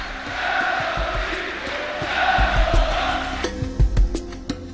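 An arena crowd cheers and roars after Galatasaray clinches the 1985-86 basketball championship against Efes Pilsen, a dense, steady swell of many voices with a few sharper claps and shouts toward the end.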